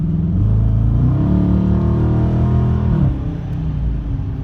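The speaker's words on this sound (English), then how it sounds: "It just sounds like a muscle car." A deep, rumbling 2017 Dodge Challenger R/T Plus engine revs up loudly, its pitch climbing for a few seconds before easing back to a throaty idle.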